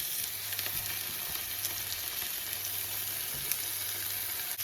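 Beef steaks sear in a hot pan with a steady, close, crackling sizzle that holds evenly throughout, with no one talking.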